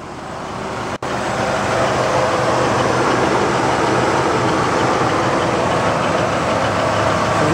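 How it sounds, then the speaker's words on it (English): A 1965 Oldsmobile 442 with a 400 engine and automatic transmission idling: a steady, continuous engine rumble with broadband hiss, starting after a brief dropout and holding even and fairly loud throughout, with no voices. "Let's listen to the engine."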